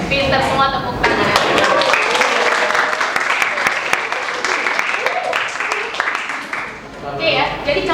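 A classroom full of students breaks into loud, sustained applause, clapping densely for several seconds before it thins out and fades, with voices mixed in.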